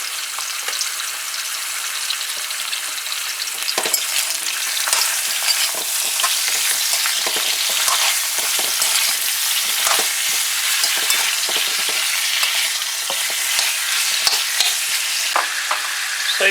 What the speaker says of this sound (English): so you just want it to fry a little bit and let it get a bit of a color